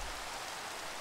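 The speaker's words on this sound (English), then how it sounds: "Oh, it's raining and I haven't disabled that in this world." Rain falls in a Minecraft world as a brief, steady, soft hiss of patter with no other sounds over it.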